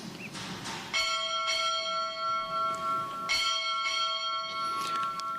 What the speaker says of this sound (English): Time orderly, strike 4 bells.